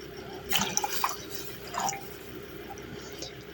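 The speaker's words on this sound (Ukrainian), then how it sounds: "Водичка закипіла, вливаю туди таку ж точно пропорцію оцту." Vinegar is poured into a pot of boiling water for marinated eggplant, a few quick splashing gurgles followed by a softer pour and then quiet bubbling, close by.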